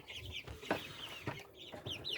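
A fighting-breed rooster of an old gamecock line clucks in a few short bursts, with a stronger call near the middle. It is fairly close and heard alone, with other faint birds in the background.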